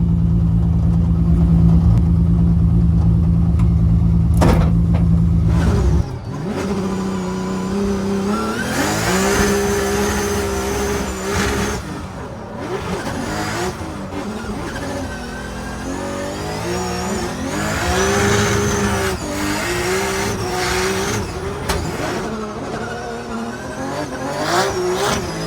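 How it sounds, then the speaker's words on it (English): A pro drift car idles loudly, then its engine revs hard and rises and falls in repeated surges, with tires squealing through long slides. Close and loud for about twenty-five seconds, with no talking. "Get a little bit of that experience of what it's like to be in a pro drift car."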